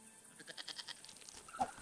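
A goat bleats in the video game Broken Sword 5: a short wavering series of bleats, a rapid pulsed cry with a brief sharp call at the end, close but fairly quiet with no talking.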